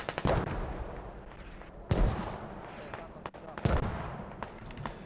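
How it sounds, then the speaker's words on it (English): Booming explosions burst at intervals, three big blasts with smaller pops and rumbling between them, loud and close, with a voice talking underneath. "We could see the explosions are going out like insanely crazy out there."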